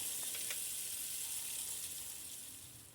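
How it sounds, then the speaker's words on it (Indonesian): Catfish pieces frying in hot oil, a steady dense sizzle and crackle that holds close and loud throughout, easing slightly toward the end, with no talking. "sebelum aku gulai ikan lelenya ini aku goreng terlebih dahulu ya teman-teman"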